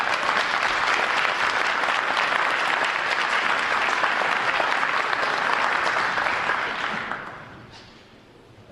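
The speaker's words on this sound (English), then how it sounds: "they deserve a round of applause." A town meeting audience gives a sustained round of applause, dense steady clapping filling a hall before fading out near the end.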